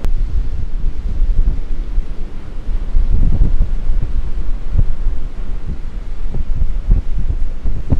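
Strong waves splash against a beach front, with heavy wind buffeting the microphone in a constant rumble and irregular low thumps as water surges and breaks close by.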